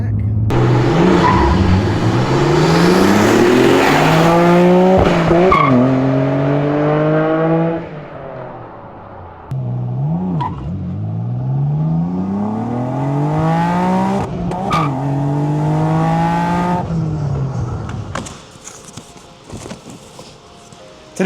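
Nissan Skyline GT-R R34 with an RB26DETT engine and an HKS Super Turbo cat-back exhaust, revving loudly through repeated climbing and falling sweeps, the exhaust note rising and dropping several times up close.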